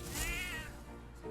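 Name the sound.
cat meowing in video game Metaphor: ReFantazio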